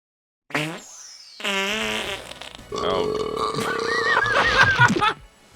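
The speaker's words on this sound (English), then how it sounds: "you burping and then a splat sound from the Hanna-Barbera library" A loud burp is followed by a wet, squelchy cartoon splat effect from the Hanna-Barbera sound library, both close and prominent, with no talking.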